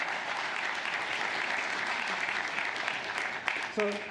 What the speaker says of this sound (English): So I'm going to stay out here and give Karen a nice round of applause for going over all of that.